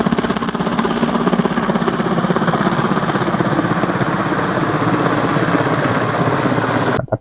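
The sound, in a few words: helicopter carrying a water bucket overhead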